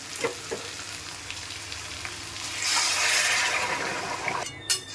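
Chicken frying in a pan while being stirred, a steady close sizzle swelling louder midway with scraping stir strokes and a sharp clink near the end, no voices.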